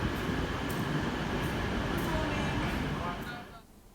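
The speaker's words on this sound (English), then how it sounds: "That is a Eurostar train." A Eurostar high-speed train makes a steady rumbling rail noise close by, holding level before fading out near the end.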